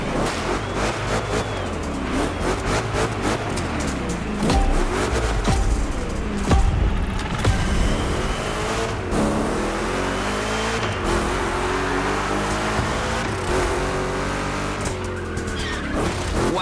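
Two Chevy big-block cars race in The Crew Motorfest, loud V8 engines revving and shifting, with tire squeal and skidding through rough turns, the engine notes rising and falling continuously.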